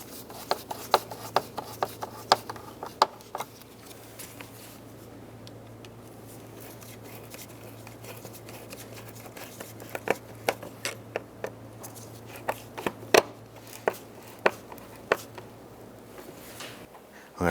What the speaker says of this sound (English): Let's go ahead and tighten down our hose clamps.